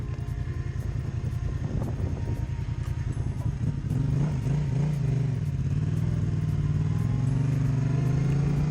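Yamaha Tracer 700 motorcycle riding along, its steady engine drone close and loud throughout, pitch rising and settling as the bike accelerates and cruises, with no talk.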